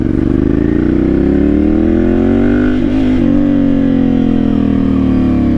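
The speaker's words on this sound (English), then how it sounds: "Let you hear the exhaust a little bit." A Ducati Monster 796 motorcycle engine drones loudly and steadily up close, its exhaust note rising in pitch as it revs, with a brief dip midway.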